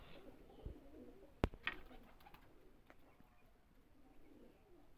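A golden teddy pigeon gives soft, faint coos in a quiet setting, with a sharp click and a few small knocks partway through.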